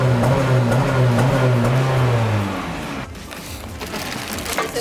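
Honda car fitted with a full Invidia exhaust, idling loud and close with a steady low droning tone for about two and a half seconds before the engine note drops away to a quieter rumble and background noise.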